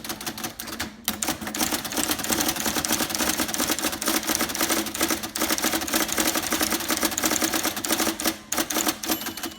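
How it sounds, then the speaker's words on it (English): An IBM Selectric electric typewriter, professionally cleaned and adjusted, types steadily without a break, a dense run of close, rapid keystrikes with a brief pause near the start and another near the end. "I'm going to keep typing and then it's going to stop at the right-hand margin"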